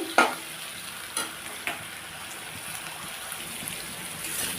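Salted pointed gourd fries in a pan, giving a steady close sizzle broken by a few spoon scrapes and stirs, with no talk.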